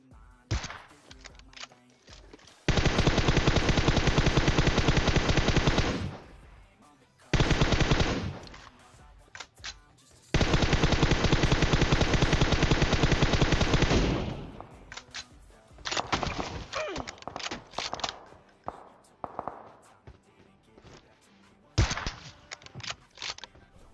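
Sustained automatic gunfire bursts in PUBG Mobile, loud and close, in several long rattling volleys separated by short gaps, followed by scattered single shots and softer clatter.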